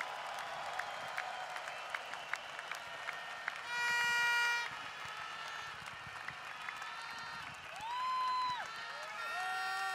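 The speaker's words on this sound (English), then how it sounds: "Let's clap your hands Bapak Batman, for Chief Batman Senatiraja." A crowd applauds steadily at moderate distance, with a couple of brief electronic tones sounding over the clapping.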